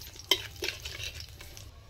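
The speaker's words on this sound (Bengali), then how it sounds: "কালো জিরাটা ভাজা হয়ে যায়" Nigella seeds fry in hot oil for a naan recipe, giving a soft, steady sizzle with a sharp utensil clink near the start and faint stirring scrapes, close and quiet.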